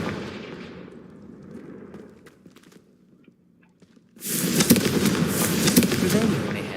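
A Confringo fire spell bursts out in the Hogwarts Legacy video game: a loud, dense crackling blast erupts suddenly after a few seconds of quieter ambient rumble and sustains to the end.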